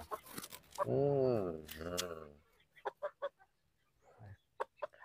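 A free-range village rooster gives a drawn-out call up close, followed by scattered short clucks and clicks with brief pauses between them.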